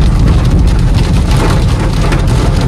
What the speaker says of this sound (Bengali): পুরো গোয়াতে এরকমই বৃষ্টি চলছে